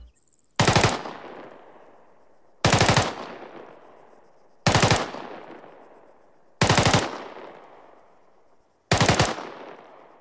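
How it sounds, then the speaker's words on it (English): M4 rifle firing short automatic bursts of three to five rounds, five loud sharp bursts spaced about two seconds apart, each trailing off in a brief echo, with no talking. "So a cyclic rate of fire would sound something like this."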